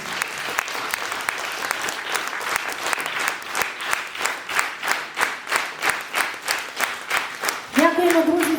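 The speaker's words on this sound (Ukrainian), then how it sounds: "Дозвольте вашими щирими оплесками подякувати нашим артистам, які сьогодні нам дають такий гарний концерт" An audience at a concert marking International Music Day gives warm applause to the performers, dense clapping settling into a rhythmic, almost unison beat before a voice begins speaking at the end.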